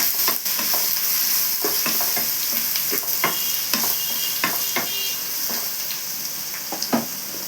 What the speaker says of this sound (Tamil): வெங்காயம் அரைச்சி வெங்காயம் போட்டுக்கலாம் நல்லா கிண்டி விட்டுக்கலாம்